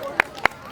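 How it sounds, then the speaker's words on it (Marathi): Audience clapping at a Shiv Jayanti program, heard as three sharp, separate claps spaced evenly in a short burst, fairly close and loud. "अजून एकदा जोरात टाळ्या होऊन जाऊ द्या या दोघींसाठी"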